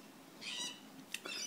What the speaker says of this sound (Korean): 저녁때가 되니까 밖에 새들이 그냥 많이 우네.